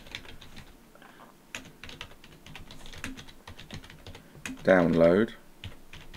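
Rapid keystrokes on a computer keyboard patter steadily throughout, close and fairly quiet, while someone speaks over them and one louder burst of talk rises near the end.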